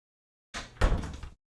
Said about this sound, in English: you know, gotta close the door,